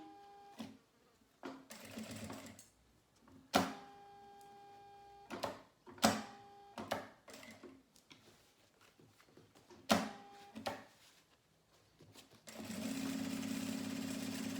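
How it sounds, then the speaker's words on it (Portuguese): A sewing machine stitches fabric for a nail-polish manicure pouch in short, close bursts of fast whirring, separated by quiet pauses, ending in a longer steady run. "Agora eu vou costurar aqui essa parte toda, também até o final."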